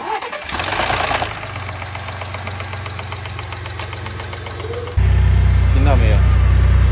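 A Lincoln engine, the same unit used in the F-150 and Raptor, runs with an abnormal knock suspected in the timing chain, a steady rapid ticking over a low hum that grows louder and closer near the end, with no voices.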